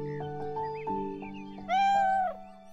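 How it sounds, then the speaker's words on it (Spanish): A cat meows in the video game Beyond Eyes, several short soft mews followed by one longer, louder rising meow, close and clear over a gentle musical background. "Qué bonito un gatito."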